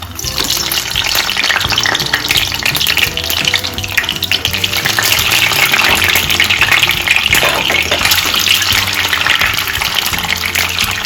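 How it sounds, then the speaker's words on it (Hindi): Eggs dropped into hot oil for an egg biryani, a loud dense crackling sizzle that runs continuously and close, with no voices. "चलिए ये तेल हमारा हो गया है, इसमें हम अंडे डाल देते हैं।"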